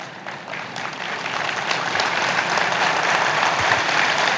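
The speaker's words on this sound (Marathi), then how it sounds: "इच्छुक अजून जोरात टाळ्या मारतात." A crowd clapping at a political rally during an Aaditya Thackeray speech, dense applause that builds from moderate to loud and holds steady to the end.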